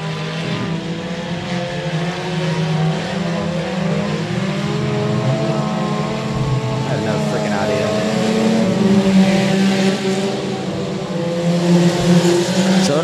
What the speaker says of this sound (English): They're going to drag race to the line.